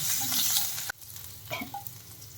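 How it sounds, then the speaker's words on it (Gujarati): Green chillies and asafoetida roast in oil in a pan, giving a loud frying sizzle that cuts off abruptly, then quieter crackles and stirring sounds. "અને આ બધાને સારી રીતે આપણે શેકી લેવાનું છે"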